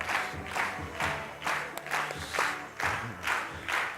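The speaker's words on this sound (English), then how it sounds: "So give a big round of applause to Lee Holden" An audience at a qigong health talk gives Lee Holden a big round of applause, clapping together in loud, regular surges with crowd noise and scattered cheers swelling on each beat.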